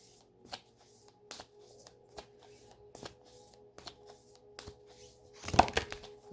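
Black Moon astrology cards being shuffled by hand, a run of crisp riffling flicks and taps at an uneven pace, close and fairly quiet, with a louder flurry of card slaps near the end.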